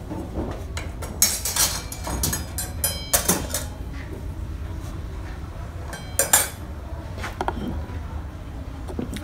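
A gouge chisel hollows a concave cut into wood during hand carving, giving sharp, scattered clicks and scraping taps at close range, with a few louder strikes among quieter scratches.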